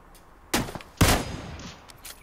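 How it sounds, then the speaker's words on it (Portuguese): Gunfire is exchanged in a mobile battle royale shooter game played on an iPhone 8 Plus, with two sharp loud bursts about half a second apart followed by fainter distant shots and a rumbling tail, with no talk. "troca de tiro agora"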